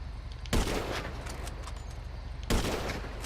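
Gunfire in the video game GTA 5 comes as two sharp, loud bursts about two seconds apart over a steady background hum.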